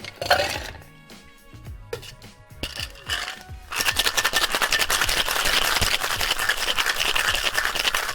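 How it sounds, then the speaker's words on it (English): Ice rattles hard inside a cocktail shaker, shaken quickly while an Aviation cocktail is mixed. A few clinks and knocks open the clip, then a dense, steady rattle of ice carries on loudly to the end with no talking. "add ice to the cocktail shaker and then give it a quick shake before straining into your cocktail glass"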